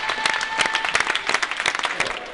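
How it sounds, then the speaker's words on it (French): Conference audience applauding, dense steady clapping throughout at close range with no talk over it. "On peut les applaudir."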